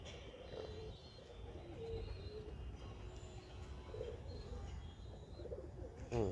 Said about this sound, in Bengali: এই পায়রা দুটোকে আমি ছেড়ে আপনাদেরকে দেখাচ্ছি